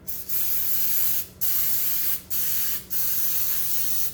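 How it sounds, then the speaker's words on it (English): Cooking spray is sprayed onto muffin pans in four short, close, loud hissing bursts separated by brief pauses, with no talking. "Okay, so I just spray each one"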